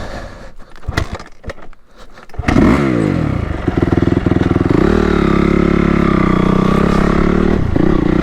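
After some clattering handling, a warm Honda CRF 250 motorcycle engine fires up and settles into a loud, steady, close idle with a brief blip of revs, no talk.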